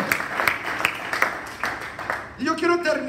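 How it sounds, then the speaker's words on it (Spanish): A church congregation claps for the Lord during an evening service, with scattered bursts of clapping under a loud preacher's voice and a sung or shouted phrase at the end. "Más fuerte ese aplauso al Señor en esta noche"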